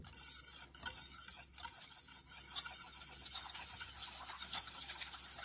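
Vegetable oil being stirred into pancake batter ingredients for an old-fashioned recipe, a faint, steady scraping and ticking of the utensil against the bowl, continuous and close with no talking.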